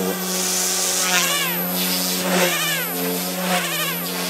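An OMPHobby M2 RC helicopter flies nearby with a steady high-pitched rotor whine, the tail rotor prominent, its pitch sweeping up and down repeatedly as the craft maneuvers.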